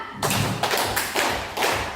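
People clapping hands together in a classroom clapping game, four loud, evenly spaced bursts of claps, each a sharp group slap, close and alone.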